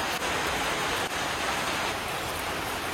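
Rain pours steadily in a village, a dense, even hiss of drops on surfaces with no break.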